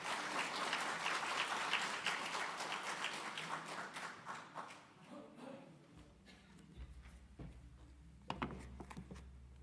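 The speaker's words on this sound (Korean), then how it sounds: "여러분 박수로 환영해 주십시오." A welcoming round of applause for a lecturer at a Catholic talk on humility and pride, clapping loud at first and then thinning out into scattered claps, followed by low hum and a few handling knocks.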